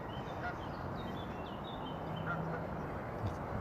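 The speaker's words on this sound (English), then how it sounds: "There's a lot of nice bird sound" Ducks and other birds at Westport Lake in Stoke-on-Trent give scattered, faint quacks and honks over a steady outdoor background, heard at a distance throughout the short stretch.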